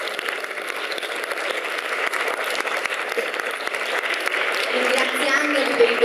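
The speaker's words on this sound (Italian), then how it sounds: "Direttori artistici del festival, Bruno Casini e Roberta Vannucci, un applauso." Steady applause from a festival audience greeting the artistic directors at a queer film festival presentation, a dense continuous wash of clapping that swells slightly toward the end.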